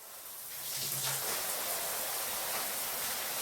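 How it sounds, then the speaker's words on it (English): Steady rain ambience from the visual novel game Baldr Sky, a continuous hiss of falling drops that swells slightly at the start and then holds even and moderately quiet. "When I open my eyes to the sound of rain"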